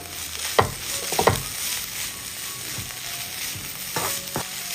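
A hot cooked snack mixture with lemon juice and coriander leaves being stirred in a pan, a few sharp spoon scrapes and clinks over a soft continuous sizzle, close and fairly quiet.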